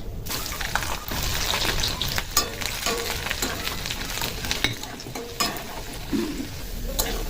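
Dried chili, nigella seeds and whole garlic crackle and spit in hot oil, a dense, loud, continuous sizzle close by, with scattered sharp pops and occasional stirring scrapes.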